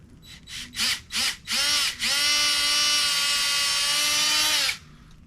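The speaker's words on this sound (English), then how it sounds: "I remembered I had my drill in my back seat." A cordless power drill revs in several short bursts, then runs continuously as the bit starts a hole in a tree trunk outdoors, loud and close before stopping abruptly.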